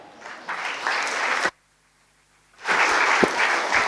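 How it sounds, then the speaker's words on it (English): Audience applause at the inaugural session of an MSME conclave, a dense, steady wash of clapping from a large crowd that cuts off abruptly, falls silent for about a second, then swells back up just as full. "Kindly applaud."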